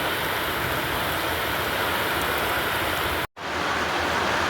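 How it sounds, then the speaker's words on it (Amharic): Heavy rain pours down as a loud, unbroken roar of falling water during flooding at a rural home in Dubai, cut by a brief near-silent gap before the downpour resumes. "ቤታችን ውስጥ ዝናብ ገባ፣ ጎርፍ ገባ።"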